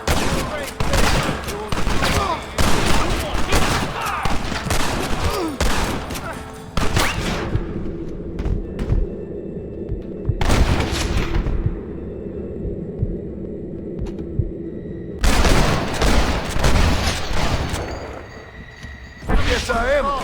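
Gunfire during a gate assault in Red Dead Redemption: loud, close bursts of rifle and pistol shots with rumbling booms, broken by quieter lulls, while voices shout over the shooting.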